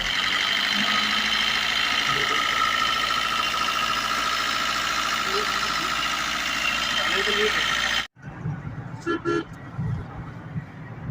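A Swift Dzire car engine idles with an even mechanical hum for several seconds after a timing chain repair, then cuts off abruptly, leaving brief voices and small noises.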